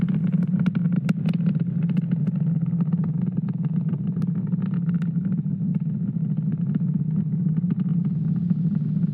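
SpaceX Falcon 9 rocket engines during ascent from Florida's Space Coast, a steady low rumbling roar with faint crackle on top, continuous and unaccompanied by talk.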